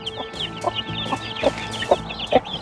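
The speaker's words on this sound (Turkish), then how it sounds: "Civcivlerin sesi gelmeye başladı." Several newly hatched chicks peep in quick, high chirps, repeating in a loose rhythm close by, with faint clucking of a hen in the background.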